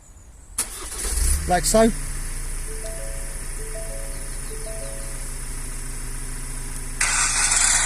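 A Ford Transit Custom van engine started remotely by an app-based alarm system cranks briefly and catches, then settles into a steady idle, with someone speaking briefly near the start.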